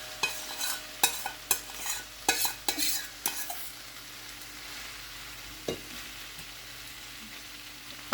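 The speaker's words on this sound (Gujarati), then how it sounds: "તો હવે એની અંદર આપણે જે નૂડલ્સ હતા આપણા, એ બધા જ નૂડલ્સ હવે એડ કરી દઈશું." Noodles tossed into sauce in a frying pan for chilli paneer noodles, a run of quick scraping stirs over a quiet sizzle, then the stirring fades to a lone clink and a low fry.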